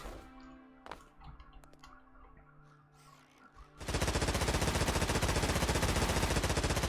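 A mounted gun in the game Stormworks opens fire in a long, rapid, unbroken automatic burst that loudly fills the second half, after some quieter mechanical clicks and hums.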